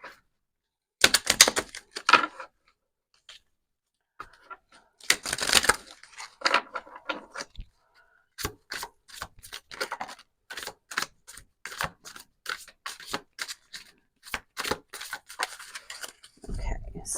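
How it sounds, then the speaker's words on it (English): Moonology oracle cards shuffled by hand, a run of sharp papery riffles and slaps, sparse at first then settling into a steady quick rhythm, close and fairly loud, with a brief low thump at the end. "I'm also going to pull some Moonology cards for you"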